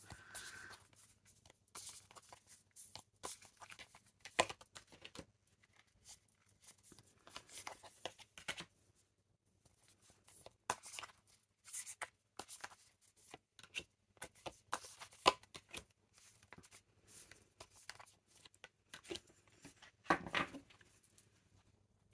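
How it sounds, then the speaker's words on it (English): Tarot cards being pulled from the deck and laid out one by one, a run of soft close papery flicks, slides and taps at an irregular pace in a quiet room, with no talking. "Now let me just pull the rest of the cards."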